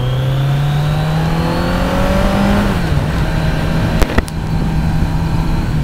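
A 2022 Kawasaki Z900 with 125 hp rides past on a test ride. The engine note climbs steadily through a loud rev, then drops after a gear change, with a brief clunk partway through.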